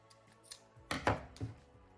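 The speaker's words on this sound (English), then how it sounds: "You will cut the yarn." Scissors snip through yarn while making a crocheted apple pie turtle: a few quiet, close cuts, with two or three crisp closing snaps alone in a hushed room.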